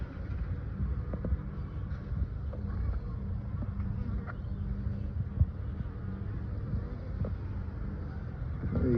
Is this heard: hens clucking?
no